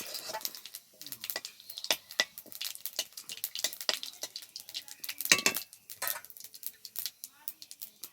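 Dried red chillies and whole cumin hit hot mustard oil in a pan, giving scattered sharp crackles and pops with bursts of sizzle, fairly close.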